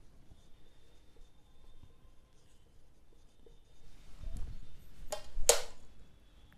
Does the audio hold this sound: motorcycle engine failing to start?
no